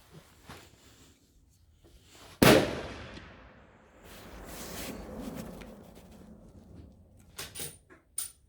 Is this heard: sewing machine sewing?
no